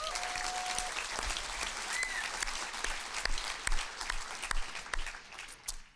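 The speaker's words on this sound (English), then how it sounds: "give yourself some applause" A graduating journalism class at a UW-Madison commencement gives itself applause, a large hall full of sustained clapping with scattered sharp claps and faint crowd noise, steady and fairly distant.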